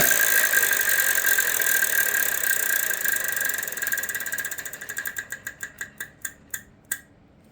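A spinning prize wheel on the Wheel of Fortune game show, its pointer clicking rapidly and steadily before the ticks spread out, slowing one by one to a stop.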